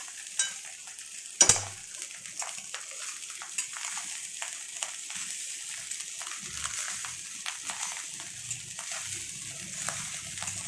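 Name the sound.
stirring egg fried rice with ghee in a pan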